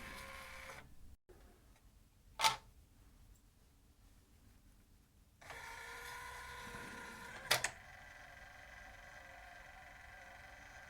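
A Fisher CD player's mechanism tries to load a disc but the clamp fails to seat fully, giving faint whirring motor hums broken by two sharp mechanical clicks, quiet and close.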